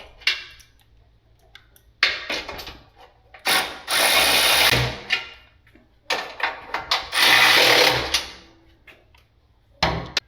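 Bolts on a Jeep Gladiator fuel cell are tightened with a ratchet, loud close bursts of rapid clicking separated by short pauses, with no talk.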